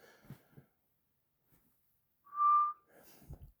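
A lone, steady whistle from a mysterious steam engine sounds clearly at moderate loudness for about a second, with spoken voices before and after it.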